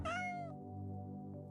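One short, high meow from a game cat in the Chonkers idle game, clear and close, then fading into a quiet steady background hum.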